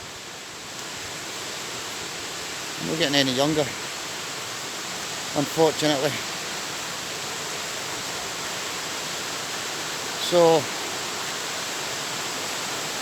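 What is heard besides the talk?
Flotterstone Waterfall flowing off Glencorse Reservoir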